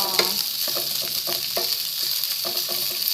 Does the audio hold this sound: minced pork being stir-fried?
yes